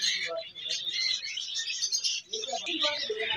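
Java sparrows, including a white Java breeder pair, at a Bahawalpur bird market give a dense, steady chatter of high chirps and tweets, close and continuous, with faint voices talking underneath.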